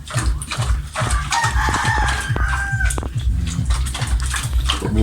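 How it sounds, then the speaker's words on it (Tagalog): Chickens cluck and a rooster crows on a farm with goats nearby, steady nearby fowl noise throughout with a low background hum. "Nandun yung manok."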